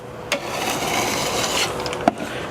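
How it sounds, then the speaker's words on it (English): A hand scraper draws across wood, lifting an old shellac finish in a steady, close rasping scrape with a couple of sharper knocks. "let's try it with the scraper"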